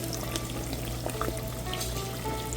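Buttery cashew brittle sizzles and bubbles steadily in a pan while being stirred, a dense, close crackle that continues without pause and with no voices.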